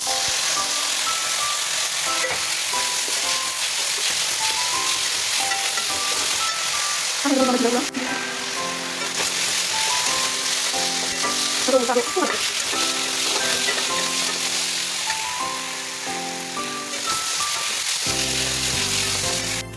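Chopped garlic sizzles and fries in a pan while being stirred, a loud steady sizzle with occasional scraping, heard under background music.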